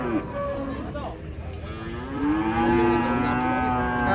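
Very small cows mooing loudly and close as they come down from a truck, several overlapping long, drawn-out calls that rise and waver, with a steady low background of barn noise.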